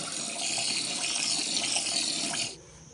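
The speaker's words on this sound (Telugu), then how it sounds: "ఇప్పుడు రైస్ కడుగుతున్నాం." Rice for a homemade village biryani is washed by hand in water. Close, continuous sloshing and running water lasts most of the stretch, then stops abruptly near the end, with no voices.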